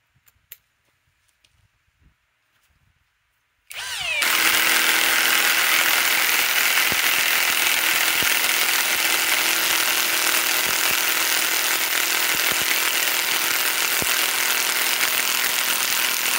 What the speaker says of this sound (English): Let's run it in the impact wrench first.